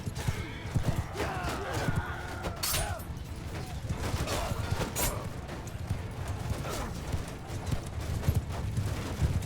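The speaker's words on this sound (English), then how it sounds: "Let's get these horses out of your way." Horses clip-clopping in a Mount & Blade II Bannerlord battle, many hoofbeats mixed with creaks and the odd whinny, continuous and fairly busy.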